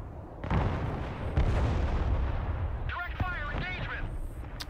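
Artillery fire in the real-time strategy game Broken Arrow, with heavy booming blasts and rumbling bursts near the start and around the first second, followed by sustained battle noise and whistling sounds, loud throughout.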